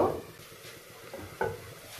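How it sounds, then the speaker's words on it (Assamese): Onions with ginger, garlic and green chilli frying in a pan for spicy mutton curry, with a soft low sizzle and a few light stirring scrapes, quiet and close. "পিঁয়াজৰ কালাৰটো ভালকৈ ৰঙচুৱা নোহোৱালৈকে মই ভাজিম।"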